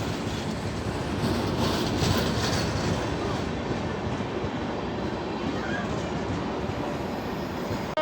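A train rolls through Faridabad station in a steady, continuous rumble of wheels and wagons for several seconds, with faint clatter and no talk over it.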